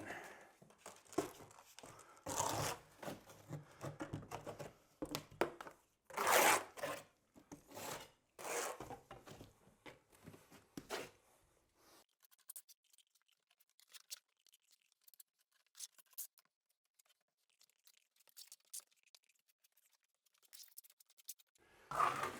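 A flat steel trowel spreads a veneer coat of plaster across a wall during a plaster repair, giving repeated rasping, scraping strokes for about eleven seconds, then mostly quiet with faint scrapes and a final stroke.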